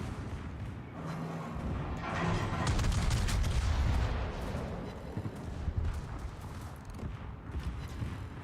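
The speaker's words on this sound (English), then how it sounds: "He's shooting HE at me." High-explosive naval shells fire in World of Warships: a rumbling salvo of heavy booming gun blasts swells to a loud peak, then continues as scattered thuds and distant cracks over a low battle drone.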